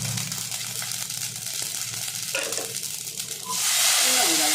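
Mustard seeds and fennel crackle in hot oil, a soft sizzle with scattered pops that swells into a loud, bright hiss near the end.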